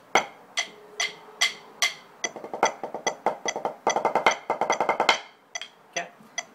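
Snare drum diddle exercise, sharp stick strokes starting as spaced single hits, then rapid double-stroke bursts in a fast rhythmic run, close and clear, then slowing to isolated hits.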